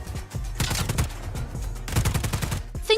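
Enemy gunfire in the video game Just Cause 4, with rapid bursts of shots crackling steadily throughout, loud and close, layered over a dense game soundtrack without talk.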